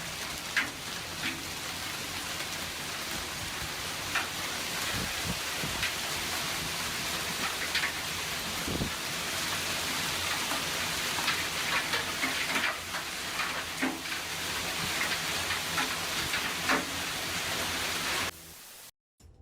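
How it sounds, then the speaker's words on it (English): Heavy hail falls on a Texas garden as a dense, steady hiss and patter with scattered louder impacts. It continues at even strength before cutting off abruptly near the end. "Take a look at this extreme hail turning this person's Texas garden white."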